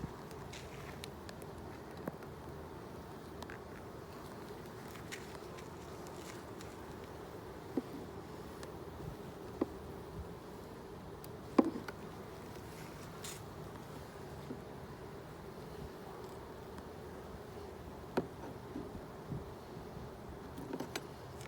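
Honey bees from a busy open hive buzz faintly and continuously in a low drone, with scattered soft clicks and knocks as hive frames are shifted.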